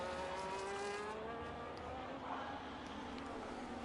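An Aston Martin race car lapping in a racing video game, its engine a steady high whine that shifts pitch through gear changes, heard from onboard at moderate level under a commentator's voice.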